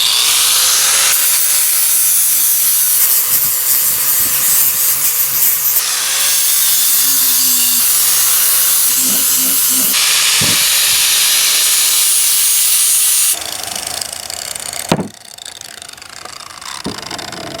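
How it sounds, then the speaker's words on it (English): An angle grinder with an 80-grit disc removes surface rust from metal, a loud, close, steady abrasive hiss and rasp that changes pitch as pressure shifts, with short pauses near the end. "This is an angle grinder. This is my go-to tool."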